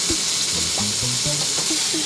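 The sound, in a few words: batter-soaked bread for French toast sizzling in a pan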